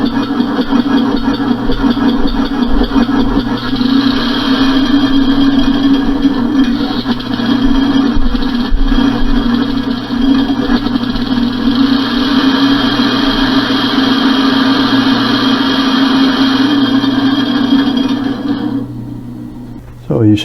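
A compressed air engine with an oval ring design runs steadily with a constant droning, rattling hum for about eighteen seconds, close and loud, then cuts off abruptly.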